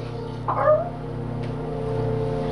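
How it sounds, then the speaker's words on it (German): A single short cat yowl from the video game Machinarium rises briefly over a steady, humming game soundtrack, clear but fleeting and with no talking. "Katze rausgeschmissen."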